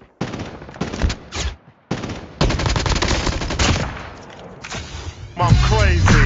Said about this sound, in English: Well, I'll just keep shooting.